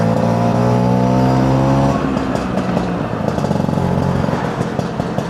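A two-stroke motorcycle ridden around Torquay, its engine holding a steady buzzing drone before shifting into a rougher, choppier note with rising and falling revs, close and loud throughout.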